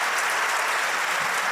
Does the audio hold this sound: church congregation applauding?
yes